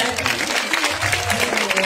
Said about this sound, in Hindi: तो एक बार हमारे जितने कैमरामैन मौजूद हैं इनके लिए जोरदार तालियां हो जाए।